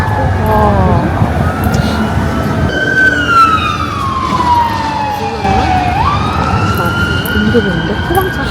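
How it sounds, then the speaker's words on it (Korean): A fire truck siren in Guam wails loudly nearby, its tone sliding down and rising again over rumbling traffic, with a voice speaking underneath. "우리는 외국 올 때마다 소방차들이 출동을 하네."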